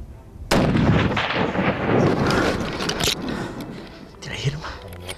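.270 rifle fired at a Dall sheep in the Alaskan mountains: one loud, close blast with a long rolling echo, then quiet voices speaking.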